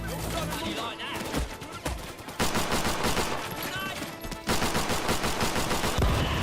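Rapid bursts of pistol fire ring out in the Helldivers video game, dense and loud across the clip, with a heavier volley toward the end, mixed with in-game effects and voices.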